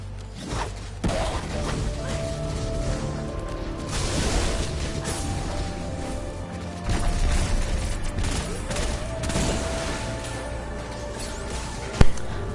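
Pulse rifle fire in the sci-fi shooter Destiny 2, loud, dense bursts of rapid shots layered over game effects and a mechanical background, with a sharp crack near the end.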